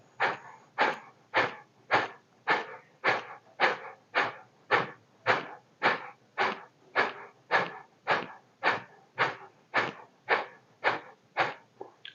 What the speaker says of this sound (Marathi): पोटात श्वास बाहेर पोटात श्वास बाहेर